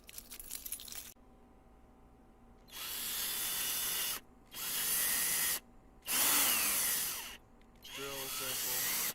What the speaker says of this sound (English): Drill sample.